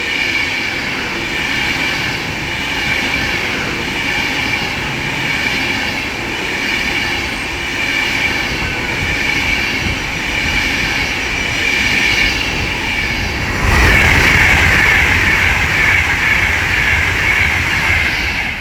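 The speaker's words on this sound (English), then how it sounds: "we're about to have an Avanti West Coast class 390 Pendolino pass by from Manchester Piccadilly to London Euston" Avanti West Coast class 390 Pendolino train passing through Watford Junction on the West Coast Main Line, a loud sustained rush of wheels and air with a rail whine, growing heavier toward the end.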